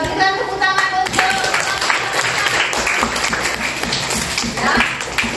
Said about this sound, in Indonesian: berikan tepuk tangan untuk